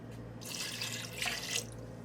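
One cup of water is poured into a mutton and yogurt mixture, a close splashing gush that swells and ebbs for about a second and a half, with no talk over it.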